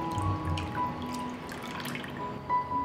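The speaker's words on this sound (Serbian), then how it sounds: "Zatim ću sok od limuna sipati u vodu." A short stream of lemon juice trickles and drips into water, with a few small splashes close by.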